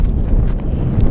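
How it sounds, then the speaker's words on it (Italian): Strong wind buffets the microphone at a mountain pass in the Lagorai range, a dense, low, continuous roar with no speech. "Qui al passo c'è un sacco di vento"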